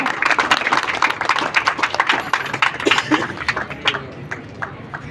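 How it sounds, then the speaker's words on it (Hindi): Audience clapping at an anniversary gathering, a quick patter of individual claps that is moderately quiet and fades toward the end, with faint voices underneath. "उनके लिए ज़रा अलग से तालियां बजा दें"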